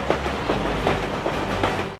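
A train rolls past close by with steady, loud clickety-clack wheel beats in a regular rhythm over a low rumble, serving as a sound effect in a children's audiobook.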